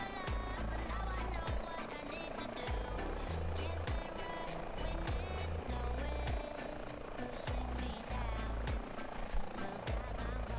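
Airbus H145 helicopter in Microsoft Flight Simulator, flying over the east coast of Africa, with a steady, loud rotor thump and turbine drone throughout and a voice faintly underneath.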